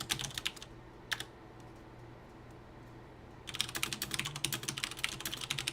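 Fast typing clatters on a mechanical computer keyboard, close and crisp, in a short burst, then a pause with one stray keystroke, then a dense, rapid run of keys.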